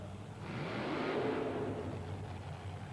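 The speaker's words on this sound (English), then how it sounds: "nailed the throttle for a little quick burnout up to the cars" A monster truck engine at a 1990 USHRA event in Orlando revs up and swells in a short burst, then eases slightly, heard from a distance over the arena.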